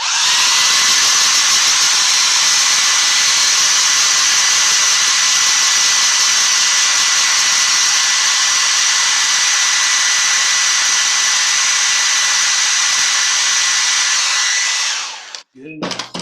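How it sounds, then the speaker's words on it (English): A hair dryer blows steadily on wet red paint on a carved fantasy book, giving a loud, even, continuous whoosh for about fifteen seconds before it cuts off abruptly. "here we go with the hairdryer"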